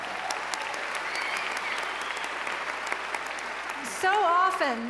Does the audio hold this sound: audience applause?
yes